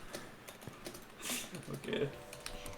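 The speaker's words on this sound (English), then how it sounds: "I hear you typing" Soft computer keyboard typing patters in scattered light clicks, faint and distant, mixed with a quiet voice saying a word.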